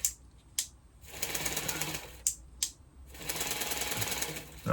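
A David Union Modellers D600 mini belt sander runs at its slowest speed in two sustained whirring stretches, each preceded by sharp clicks, loud and close in a workshop.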